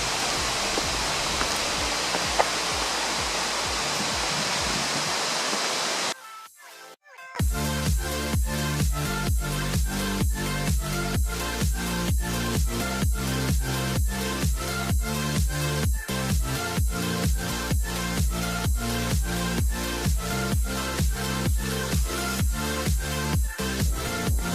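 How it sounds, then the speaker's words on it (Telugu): Water gushes steadily in the active pool at the Fort Worth Water Gardens, a dense continuous rush heard for several seconds before a brief pause and rhythmic music taking over. "సో వాటర్ గషింగ్ సౌండ్ ఇక్కడి వరకు వినిపిస్తుంది ఆల్మోస్ట్"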